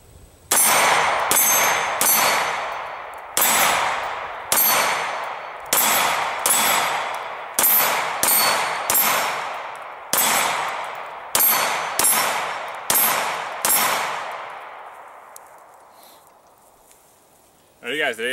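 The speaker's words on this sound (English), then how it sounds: "let's step over the 12-meter line and see if we can make some steel ring" An H&K USP full-size 9mm pistol fires about fifteen sharp shots in an irregular string, each one ringing a steel target at 12 meters. Loud metallic clangs decay into a fading ring, and a brief voice follows at the end.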